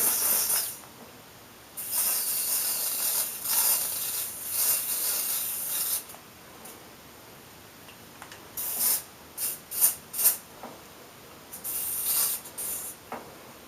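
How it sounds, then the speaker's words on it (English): An aerosol can of spray foundation makeup sprays in several long hissing bursts, then a run of short quick spurts, close and fairly loud. "Spray foundation, just going to close my eyes and spray that all over."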